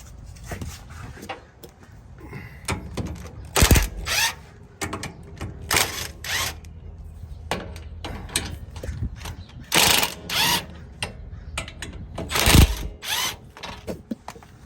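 Ratchet loosening sway bar clamp bolts on a KDSS front sway bar, rapid clicking pawl bursts in repeated strokes with louder cranks between, close and alone.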